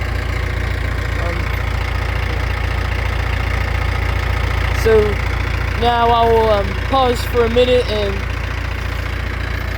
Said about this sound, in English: leave on this good sounding tractor for us.